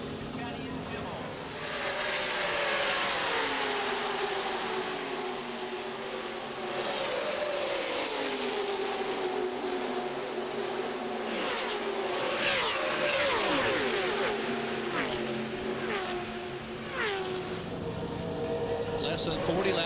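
Stock cars race around the track at the 1999 Winn-Dixie 300 ARCA race, their engines a steady, droning roar with rising and falling pitch sweeps as cars pass, under continuous commentator speech.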